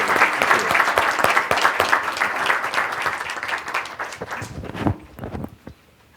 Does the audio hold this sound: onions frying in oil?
no